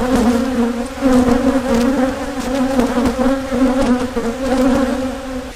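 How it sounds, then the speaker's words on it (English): Dense, steady buzzing of a large mass of honey bees around an open hive being split, loud and close throughout with a droning hum that swells and dips slightly, no voices. "You got a lot of bees in that builder."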